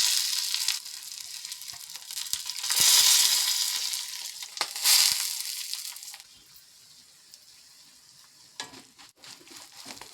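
Loud bursts of sizzling and stirring as grated coconut and spices roast in a hot pan, swelling and fading, then quieter crackle with occasional scrapes.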